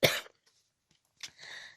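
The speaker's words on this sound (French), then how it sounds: "je vais tousser, c'est normal" A single close, sharp cough bursts out, then brief quiet, followed by a softer throat-clearing rasp.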